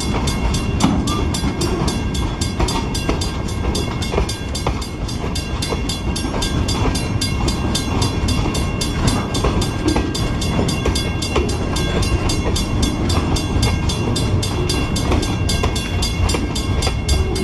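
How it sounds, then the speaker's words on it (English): A short freight train of scrap metal and wood cars rolls past close by, a continuous loud rumble with rhythmic clatter of wheels over rail joints and steady metallic grinding, no voices. "Not a very long train"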